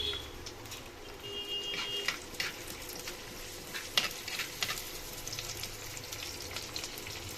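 Curry leaves and chopped garlic sauté in hot oil for a Kerala-style roasted-coconut fish curry, giving a steady soft sizzle with occasional louder crackles and light stirring scrapes throughout.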